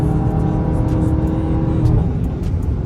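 A Dodge Hellcat's engine roars loudly and steadily nearby, with a deep, continuous rumble, brief breaks in the note that may be gear shifts, and no talk over it.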